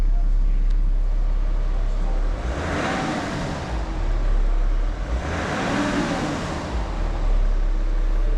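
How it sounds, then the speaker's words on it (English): A BMW E90 325d diesel idles steadily through an open car door, a low, even engine rumble continuing throughout the clip with a gentle rise and fall in texture. "Just open the door so you can hear the engine."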